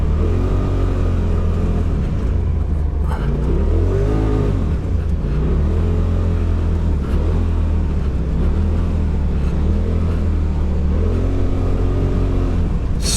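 Polaris RZR engine droning loudly and continuously while driving across soft sand dunes, with rising and falling revs as it accelerates, close and steady, no talking.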